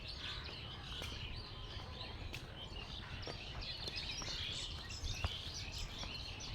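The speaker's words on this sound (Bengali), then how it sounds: "দেখেন কত পাখির কিচিরমিচির শব্দ শোনা যাচ্ছে।" Birds chirp and tweet in scattered short calls over a steady outdoor hush in a garden at Thikana, a flower-filled nature spot in Badda, Dhaka. The calls sound distant and faint, and no one speaks.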